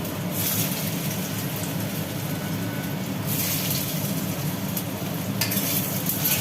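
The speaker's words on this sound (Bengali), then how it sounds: "কড়ার মধ্যে পড়লো তেল তেল গরম হয়ে গেছে এবার আলুগুলো দিয়ে দেওয়া হলো" Potatoes fry in hot oil in a wok with a steady, loud, close sizzle, joined by stirring scrapes and bursts of spitting that flare up now and then.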